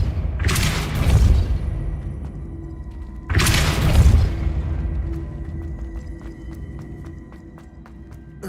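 Two loud, deep blasts of the Depulso spell in Hogwarts Legacy, each striking hard and then fading slowly into a low ringing tail, a few seconds apart.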